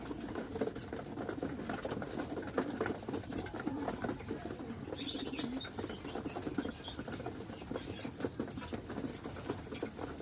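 Dense, busy pattering and scratching of birds pecking and shuffling, with occasional soft wing flutters, continuous and fairly quiet, no voices.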